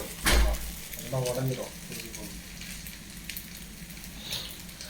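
Onions sizzle and fry in a pan for an omelette with a soft, steady crackle, a brief clatter of stirring and a voice speaking early on.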